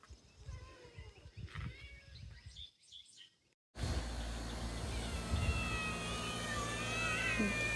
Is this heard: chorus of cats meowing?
yes